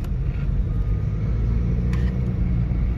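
A steady, coarse diesel engine rumble from a 2014 Mercedes-Benz E250 BlueTEC 4Matic fills the cabin while driving, low and constant with no voices.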